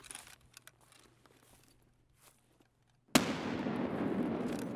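Grenade explosion in the video game Escape From Tarkov, a single sudden loud blast after near-silence with faint footsteps, followed by a sustained rumbling debris wash.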